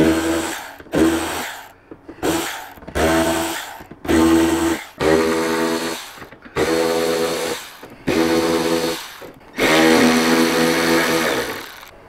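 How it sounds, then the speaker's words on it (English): A battery ratchet backs T20 screws out of motorcycle saddlebag latches, its loud whirring running in a string of short bursts that grow longer toward the end, with brief pauses between them. "We're going to take the T20 and go ahead and pull these screws out"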